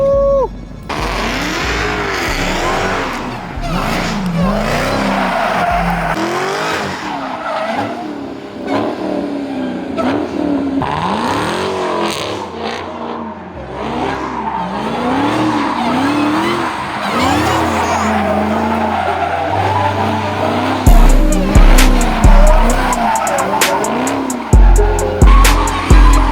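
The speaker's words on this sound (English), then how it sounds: "There's a Hellcat about to go." A Dodge Hellcat drifts at Sumerduck Raceway in Virginia, its engine revving and wailing in long swells with tire squeal, loud and close, while crowd noise and occasional voices carry underneath.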